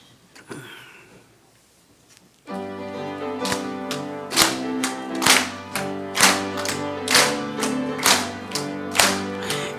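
A church congregation claps in unison while singing a Christmas praise song, the claps landing in a steady, loud rhythm over sustained music after a brief quieter start.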